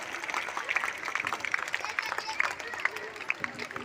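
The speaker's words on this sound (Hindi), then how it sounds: "जोरदार तालियां बजाना है।" Children at a Republic Day school function at an Urdu primary school in Malegaon clap together in a steady, dense patter of applause, with crowd murmur and a voice beneath it.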